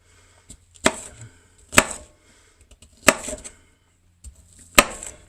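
A sharp knife chops chunky pieces of food for chili on a cutting board, five or six distinct close thuds spaced irregularly with quiet gaps between.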